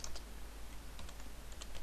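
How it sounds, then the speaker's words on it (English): Quick, close clicking of keys on a computer keyboard as a player name is typed into a Minecraft map editor, irregular taps over a low steady hum, with no talking. "Now if I type in my player name"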